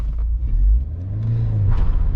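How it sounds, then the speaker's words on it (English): Low rumbling engine of a 2018 Ford Fiesta ST being launched in a burnout, the clutch slipping as revs climb and hold in a steady, loud drone close by. "you did a burnout and you burned the hell out of my clutch"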